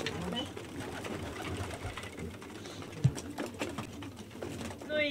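Female pigeons coo softly inside a pigeon loft, their low murmuring calls mixed with rustling, a few bumps and someone talking over them.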